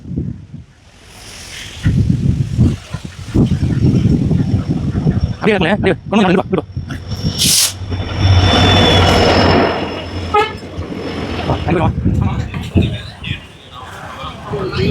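An express train pulls into Pamban station and slows, with rumbling wagons, brake squeal and a horn toot mid-clip, heard close under steady talk and crowd noise on the platform.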